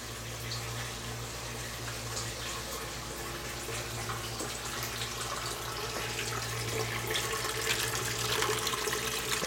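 Water trickles steadily from a siphon into aquaponics tanks inside a greenhouse, a continuous close splashing flow that grows slightly louder toward the end, with no one talking.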